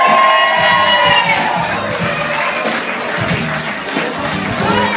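A crowd gathered for a charity head-shaving event gives a loud, lively cheer with shouts and whoops that carry through the whole moment, fading slightly toward the end.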